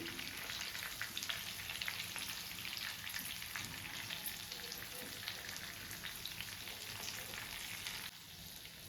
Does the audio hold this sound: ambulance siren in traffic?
no